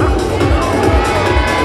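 A large crowd at a freestyle motocross show cheers and screams continuously, a loud dense roar of voices with no pauses.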